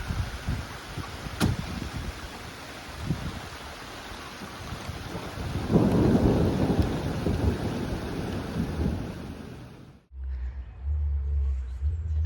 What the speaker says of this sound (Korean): 지금 천둥 번개 그리고 구름은 까득 비바람이 치는데